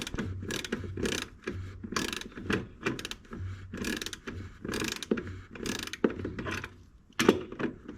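A ratchet wrench clicks in quick repeated bursts while turning a tight oversized bolt on a John Deere compact tractor's fuel tank, rhythmic and close, pausing briefly between strokes.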